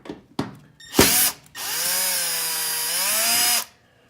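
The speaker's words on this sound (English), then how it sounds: "We're using a 1/4 inch drive." A power drill with a 1/4 inch drive removes screws from a Frigidaire Gallery stove, giving a few short bursts and then a sustained whine of about two seconds that winds down, loud and close, with no talking.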